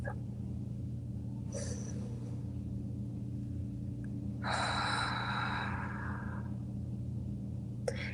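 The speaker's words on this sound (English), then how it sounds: "Breathe in through your nose, blow your belly up like a balloon, really, really big, and hold, and release out through your mouth." A slow, deep breath drawn in through the nose and released out through the mouth: a brief soft inhale, then a longer, breathy exhale, fairly faint over a steady low hum.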